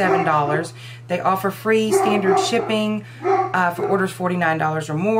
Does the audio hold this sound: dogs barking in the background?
yes